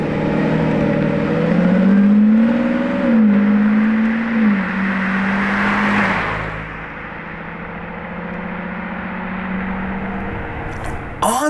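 A loud Lamborghini Revuelto pulling out through a gate, its engine note rising and falling in steady revs before settling into a lower drone as it moves off, with voices talking nearby.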